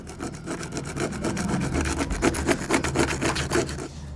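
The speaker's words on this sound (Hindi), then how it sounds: "इस तरीके से यहाँ पर मतलब इस तरीके से घिस लेना है घिस के मतलब धार को बिल्कुल ख़त्म कर देना है" A hand file rasps back and forth across the sharp edge of a sewing machine part, smoothing it, in quick regular strokes, close and clear with no talk.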